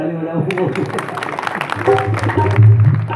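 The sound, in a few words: applause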